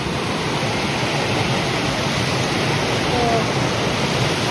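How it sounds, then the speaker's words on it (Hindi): Water rushes beneath a broken bridge in a steady, loud, unbroken roar that fills the whole stretch, with a single brief spoken word barely rising above it. "ये देखिए पानी की आवाज़ कितनी ज़बरदस्त"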